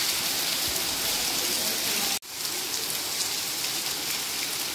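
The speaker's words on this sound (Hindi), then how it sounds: "जबरदस्त बारिश का मौसम।" Heavy, steady downpour hissing continuously and close, briefly cut off by a short break midway before resuming at full strength.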